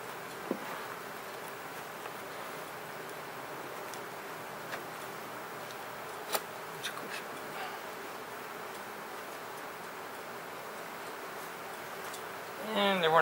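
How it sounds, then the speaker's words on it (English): Honey bees at an open hive during an inspection, with wax built up on top; a soft, steady buzzing hum throughout, faint and close, with occasional small clicks and taps and a brief louder handling noise at the end. "I'm going to get the bees off here if I can"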